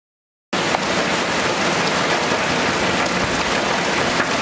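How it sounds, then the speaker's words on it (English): Heavy rain pours down outside in a dense, steady hiss that starts abruptly after a short silence and stays loud and unbroken throughout. "It's raining hard outside, man. Cats and dogs."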